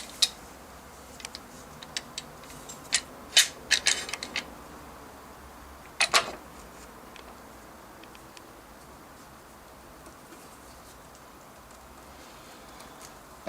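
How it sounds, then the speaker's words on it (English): Wood clamps tightened on a glued woodworking joint: a few sharp, close clicks and creaks clustered in the first seconds, then a quieter stretch of faint room noise. "you add both your clamps"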